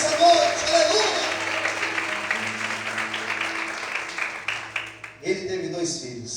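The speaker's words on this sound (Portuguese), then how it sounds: "Essas palmas são para Deus, glorifica Ele." A church congregation applauds with dense, sustained clapping while a pastor speaks over it, the applause thinning toward the end.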